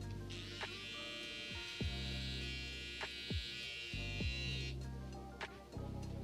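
A skeleton hair trimmer runs steadily during a freestyle haircut design, giving a constant close electric buzz and hum with a few brief clicks and shifts in tone as it moves.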